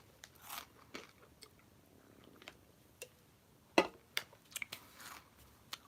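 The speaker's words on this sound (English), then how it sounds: "Chewing too fast." Crunchy food being bitten and chewed close to the microphone in a quiet room, a scattered series of crisp crunches and bites that grows louder and busier toward the end.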